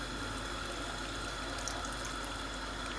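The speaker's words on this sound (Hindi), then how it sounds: "अब यहाँ पर आप देख सकते हैं मिंट के सिरप के अंदर अच्छे तरीके से उबाल आना स्टार्ट हो गया फिर से" Sugar syrup with mint juice boiling in a pan, a steady, even bubbling hiss that holds at constant loudness throughout without any voices.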